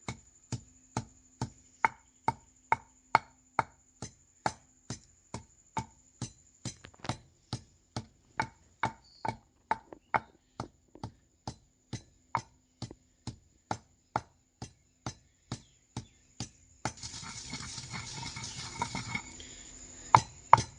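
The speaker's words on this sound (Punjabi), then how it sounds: "ਉਨੀ ਦੇਰ ਤੱਕ ਆਪਾਂ ਪੁਦੀਨੇ ਨੂੰ ਕੁੱਟ ਲੈਣੇ" Mint leaves are pounded for a homemade lemon mint drink, a steady series of sharp, even thuds repeating about twice a second, close and crisp, followed near the end by a rustling, scraping stretch.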